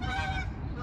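A brief burst of honking geese calls, harsh and nasal, fairly close, lasting under a second, outdoors at a car dealership in Naperville, Illinois.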